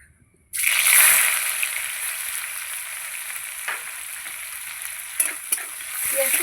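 Chopped onion hits hot oil in a pan with a sudden loud sizzle that settles into a steady, bright frying hiss, broken by a few soft clinks and stirs near the end.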